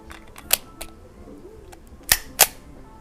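A CZ 75B Omega all-steel pistol fires lead round-nose rounds at a target, three sharp cracks, one early and two close together near the end, over a quiet background.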